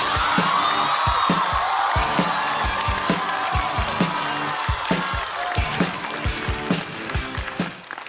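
A stand-up comedy audience applauds and cheers as a comedian takes the stage, a dense wall of clapping and whoops with sharp low thumps throughout, slowly thinning toward the end.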